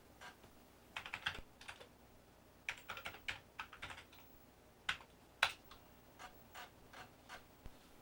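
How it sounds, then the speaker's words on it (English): Someone types a file name on an Amiga computer keyboard, with soft, quiet clusters of key taps in short irregular bursts separated by pauses, heard alone in a quiet room. "so I'll just type in the name of the file I saved"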